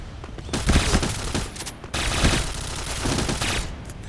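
Rapid gunfire in the online shooter Point Blank, with loud sustained bursts of automatic fire that pause briefly around the middle and then continue steadily.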